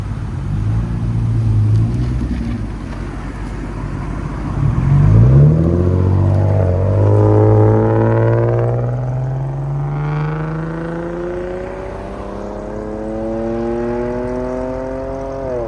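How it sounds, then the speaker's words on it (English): A 2005 Lexus GS300 inline-six exhaust with Vibrant mid mufflers and a rear muffler delete, idling low then revving up with a rising, raspy drone that climbs steadily and holds, loud and close with no talk. "2005 Lexus GS300, vibrant mids, and rear muffler delete"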